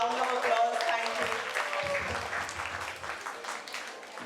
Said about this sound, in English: Everyone, please welcome her with a round of applause.